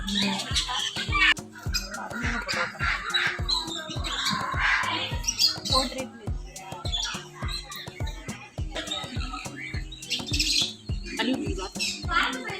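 Exotic birds at a bird park squawk and chirp repeatedly near and far, a busy cluster of harsh calls, with an ongoing rhythmic thumping and faint voices in the background.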